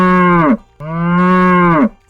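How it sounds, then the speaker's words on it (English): A cow moos twice, loud and close. Each call is long and drawn out, with a short pause between the two. "C for cow."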